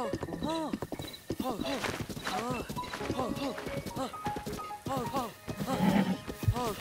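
Horse in the video game Zelda: Breath of the Wild, hooves clip-clopping in quick rhythm with repeated whinnies and neighs, close and clear, with a voice speaking underneath.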